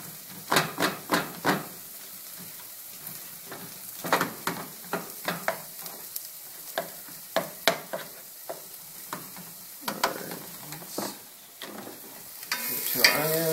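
Ground turkey frying in a pan, a steady soft sizzle broken by repeated sharp scrapes and clatters of a utensil stirring the meat, close and fairly loud, with a louder burst of hissing at the end.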